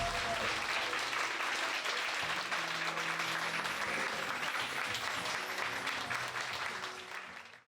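Audience applause at a lecture event as a speaker is welcomed to the stage, a dense sustained wash of many hands clapping with faint crowd murmur, steady throughout before fading at the end.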